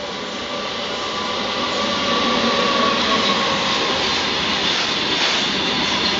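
A long goods train rolls past on a railway line, a steady, broad rumble that builds slightly and holds for several seconds with no voices over it.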